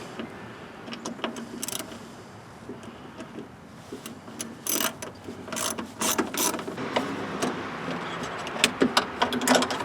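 Repeated clicking of a ratchet working bolts out of the door latch on a 2008 Chevy Equinox, rapid pawl clicks in short bursts, close and fairly loud, with no talking.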